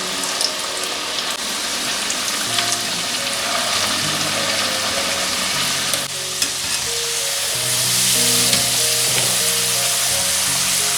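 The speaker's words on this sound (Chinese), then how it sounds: "油温180度，大火炸" Beef deep-frying in oil at 180 degrees over high heat, a loud continuous close sizzle with bubbling and stirring, a droning tone underneath, swelling louder toward the end.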